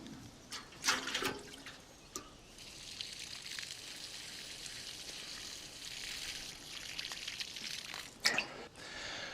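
Water poured from a can onto a newly planted plant in a garden bed, a soft trickle and splash coming in a few short bursts with quieter dribbling between, fairly faint and with no talk.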